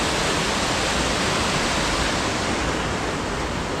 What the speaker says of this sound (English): So we're on top of the ledge, looking at a waterfall set.